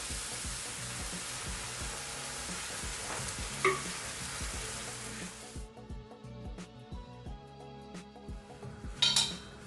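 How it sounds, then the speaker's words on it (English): Crushed tomatoes blended with garlic hit a hot pan for a beef lasagna sauce, giving a steady close sizzle with stirring that quiets after about six seconds, then light utensil clinks and scraping. "So we're going to add our blended tomatoes."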